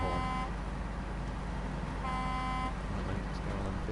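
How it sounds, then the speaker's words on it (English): Truck horn in the SnowRunner video game honking twice, long steady blasts a couple of seconds apart over a constant loud engine rumble. "It does a hexagon when I honk the horn."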